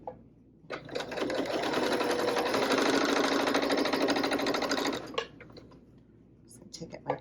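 A sewing machine stitches fabric in one steady, fast whirring run of about four seconds, starting and stopping abruptly, with quiet handling noises before and after.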